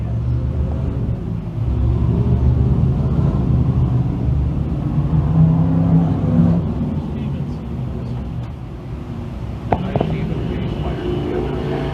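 Race cars roll onto a speedway for a sportsman heat race, a steady low engine rumble with a continuous droning quality, fairly loud throughout, with a brief sharper burst near the end.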